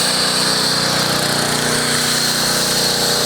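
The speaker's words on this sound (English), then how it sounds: "we'll turn off the pressure washer again" A pressure washer runs with a snow foam cannon attached, giving a steady loud motor hum and a broad hiss of spray that holds constant from start to end.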